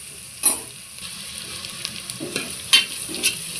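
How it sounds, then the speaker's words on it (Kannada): Crushed ginger and garlic fry in a pan for prawn biryani, a soft steady sizzle close by, broken by a few sharp stirring knocks and scrapes, with no voices. "ಇದು ಒಂದು ಸ್ವಲ್ಪ ಫ್ರೈ ಆಗಲಿ"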